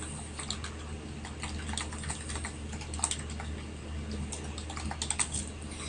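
Steady typing on a computer keyboard while writing HTML in a Notepad document, quick irregular clicks running continuously over a low background hum, fairly close and moderately loud.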